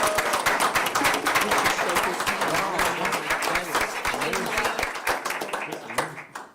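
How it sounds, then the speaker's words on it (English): A room of people claps for Chuck at a JTHS 204 school board meeting, with close, loud, fairly sparse hand claps throughout that fade out at the end, while talk murmurs underneath. "if we could give Chuck a round of applause"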